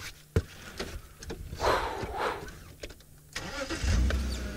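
A safari vehicle's engine hums and rises at moderate volume while driving, with a sharp knock near the start and bumps and creaks along the way, no voices.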